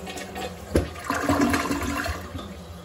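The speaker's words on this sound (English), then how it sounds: "time to flush." A toilet flushes in one close, loud rush of swirling water that drains and refills over a few seconds, with no voices.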